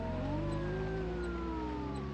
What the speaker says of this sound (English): That's not a song, you twit. It's a police siren, Barnacles.